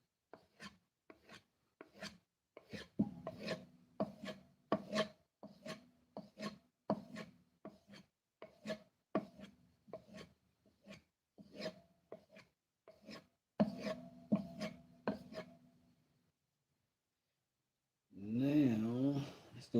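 A chisel is drawn repeatedly across a diamond emulsion strop, producing about two dozen evenly spaced rasping strokes that pause briefly before a voice speaks at the end.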